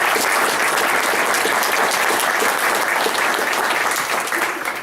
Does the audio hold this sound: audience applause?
yes